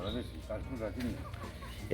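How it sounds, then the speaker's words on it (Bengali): Chickens cluck in short repeated bursts, close by, with a steady low background hum and chatter around them. "এগুলা কি দেশি মুরগি?"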